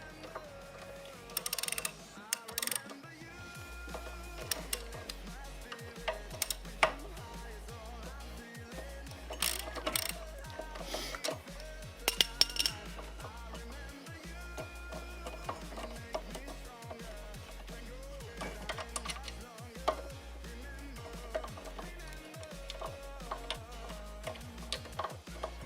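Removing a Brembo four-piston brake caliper brings quick runs of ratchet clicks and light metallic clinks and taps, close and fairly quiet, in irregular bursts with no talking.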